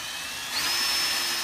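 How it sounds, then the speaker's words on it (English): A power drill whines steadily and rises in pitch as it bores a hole in a cabinet drawer for hardware, close and brief. "So I'm going to go ahead and drill the second one"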